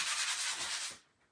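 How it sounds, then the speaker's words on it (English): A sanding block rubs briskly over a wood surface for about a second, a close, loud scratchy burst of strokes that then stops. "I just sand it a little bit to kind of smooth it out"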